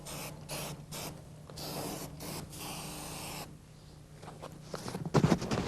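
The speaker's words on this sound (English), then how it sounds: "Make sure when you prime that you cover all exposed metal" Primer sprayed from a can over exposed metal on a car body during body repair, several close hissing bursts of varying length with brief gaps between them.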